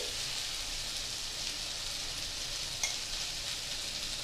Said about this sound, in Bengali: এইভাবে ছড়িয়ে দিয়ে দিয়ে এটাকে ভাজা করতে হবে।